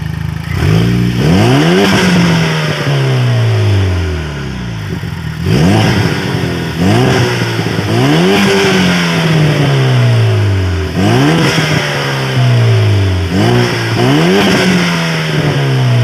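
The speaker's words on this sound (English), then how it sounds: "let's rev it up with the cutout open. Let's hear what it sounds." A loud, raspy turbocharged 2008 Chevrolet Cobalt SS engine with the exhaust cutout open revs repeatedly, each blip rising quickly then falling back to a rumbling idle, close up with no voices.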